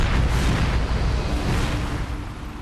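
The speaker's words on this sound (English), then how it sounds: "a short circuit sparked an explosion in the plane's center wing fuel tank." A loud, roaring explosion of a plane's center wing fuel tank, sparked by a short circuit, with a sustained rumbling blast that slowly fades, no voices present.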